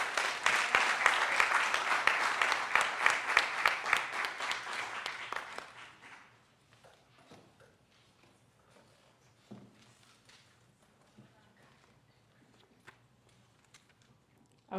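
An audience at a YouthBuild graduation ceremony in St. Louis claps for a speaker, lively, fairly close applause for about six seconds that then dies away, leaving quiet room noise with scattered footsteps and small movements.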